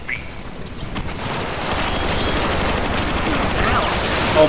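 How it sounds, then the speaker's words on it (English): Rapid continuous turret fire in Transformers: Fall of Cybertron, a dense rattling barrage that builds and holds steady, with mechanical clatter and faint whooshing effects in the mix. "Oh my god, I got killed by a turret."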